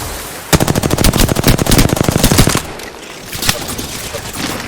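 Rapid automatic gunfire in the video game Apex Legends, a loud sustained burst of closely spaced shots lasting about two seconds, followed by quieter scattered game sounds.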